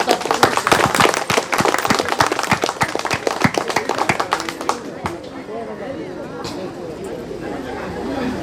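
An audience claps to welcome a speaker to the stage, a dense, loud burst of close hand claps for about five seconds. It then fades into softer room murmur and shuffling.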